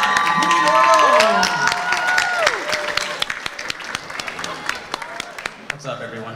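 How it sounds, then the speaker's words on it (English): Audience applause and cheering at the Asian World Film Festival in Beverly Hills, loud at first and then thinning into scattered claps, with voices and music running through it. "Let's give a warm round of applause to Rudy Norodom."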